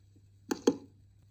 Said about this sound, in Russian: Вот это звук кнопки.